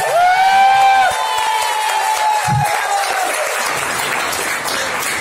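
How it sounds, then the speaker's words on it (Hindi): An audience breaks into loud, sustained applause after a brief high whistle-like tone at the start. The clapping stays dense and steady until the end. "लेकिन ताली जबरदस्ती नहीं,"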